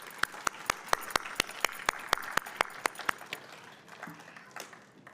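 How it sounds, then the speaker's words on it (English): Audience applause at an award ceremony, a steady run of sharp claps that thins and fades toward the end, with a voice faintly underneath. "Please join me in giving him a big round of applause."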